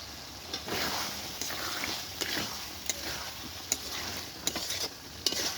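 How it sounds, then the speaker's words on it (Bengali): Spicy red chicken masala sizzles in a pan while a spoon scrapes and stirs it, giving a steady frying hiss broken by sharp clacks at irregular intervals; close, no talking. "আমরা এটাকে আপনি একটু কষে নেব"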